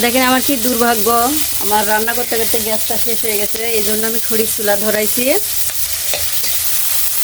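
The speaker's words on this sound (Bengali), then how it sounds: "এই পাশটা আমি ভালোভাবে ভেজে নিব" Koi fish frying in a pan over a wood-fired stove gives off a loud, steady sizzle that runs the whole time, with someone talking over it for most of the stretch.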